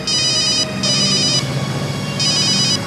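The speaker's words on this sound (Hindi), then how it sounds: "एसीपी सर का फोन।" A telephone rings indoors during a scene in a CID crime drama episode: three bright electronic ring bursts in a steady on-off rhythm, close and clear, with no talking.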